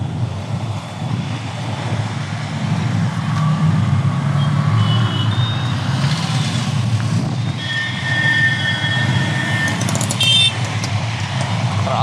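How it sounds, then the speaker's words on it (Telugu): Heavy road traffic near Chennai Central forms a continuous loud rumble of engines, with passing vehicles and a few high horn toots cutting through the steady roar. "ట్రాఫిక్ అయితే ఫుల్గా ఉంటుంది అబ్బా."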